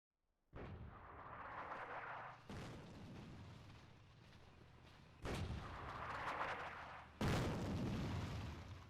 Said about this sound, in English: Who's dropping artillery on now?